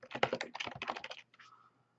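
A computer keyboard clatters with quick, close keystrokes as a template name is typed, a rapid burst of clicks that thins out into a couple of final taps and then silence.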